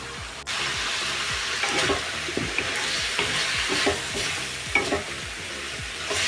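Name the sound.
sautéing ingredients for papaitan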